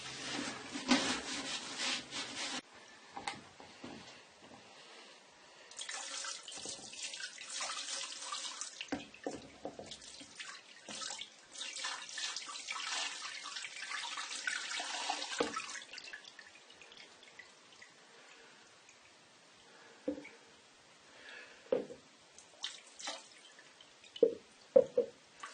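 Oil poured into the headstock of a Harrison M300 lathe, a steady liquid trickle with intermittent splashes and drips, pausing and resuming, followed by scattered clinks and handling noises near the end.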